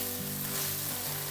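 Onion frying in a pan for Polish beef rolls, a steady close sizzle with faint crackle, no talking.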